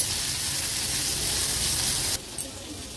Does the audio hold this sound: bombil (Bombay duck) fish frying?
yes